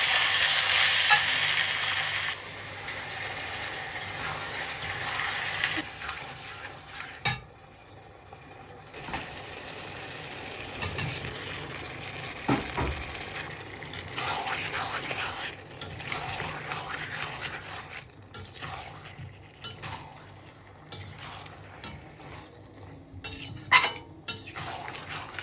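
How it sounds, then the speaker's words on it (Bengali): Chopped tomatoes with coriander powder and turmeric fry in a pan, a continuous sizzle broken by stirring, scraping and occasional clinks of a utensil against the pan, with faint voices at times. "এই যে টমেটোটি দিয়ে দিলাম, টমেটোটি দিয়ে এখন ভালোভাবে নাড়াচাড়া দিয়ে একটু ভালোভাবে কষাই নিয়ে"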